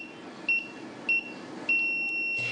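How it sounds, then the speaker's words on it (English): Three short electronic beeps from an elderly home monitoring alarm system, evenly spaced roughly half a second apart, with the last tone held longer, sounding clear over a faint low background hum. "the alarm is sounded"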